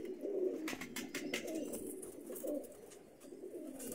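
Teddy pigeons coo steadily in a breeder setup, a soft low rolling warble repeating close by with faint ambient rustle and no talk.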